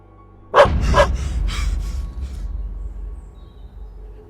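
A dog gives two sharp barks in quick succession, loud and close, followed by a rumbling noisy background that slowly fades, with no talking.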